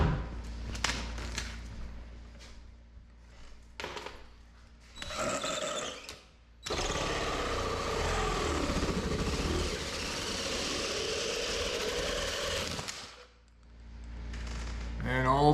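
An adjustable hole saw drills into a ceiling for a light fitting, a sustained loud grinding roar after several short bursts, stopping abruptly, with a low hum underneath.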